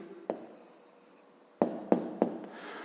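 Pen or chalk writing out a math answer in a 5th-grade lesson: a few brief scratchy strokes, then three sharp taps or marks in quick succession, close and fairly quiet, with no talking.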